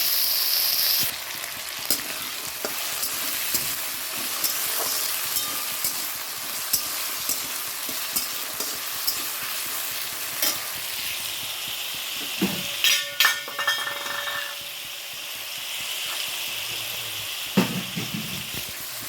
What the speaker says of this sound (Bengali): এই যে এটা কুমড়ো আলুটা ভাজা দিয়ে দিচ্ছি